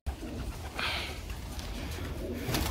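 Pet pigeons coo softly in a loft, low throaty calls sitting under faint background noise with a brief brighter rustle midway.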